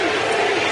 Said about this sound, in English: Crowd is cheering TC